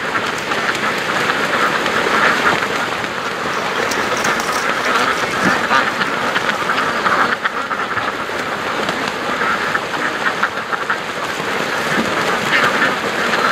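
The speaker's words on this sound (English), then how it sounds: "Just listen to those ducks." Ducks quack on the water, a dense and continuous chorus of many birds, loud and close, mixed with splashing and rustling noise throughout.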